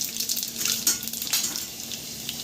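Garlic and mustard seeds fry in hot oil in a pan, giving a loud, crackling sizzle with bursts of spattering pops close by, and no voices.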